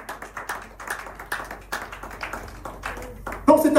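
A church congregation claps along in a steady rhythm during a Sunday worship service in Sherbrooke, Canada, moderately loud, with a voice rising over the clapping near the end.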